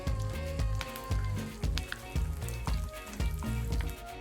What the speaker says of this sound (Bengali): এখন আমরা আলুর চিপসগুলা দিয়ে দিব।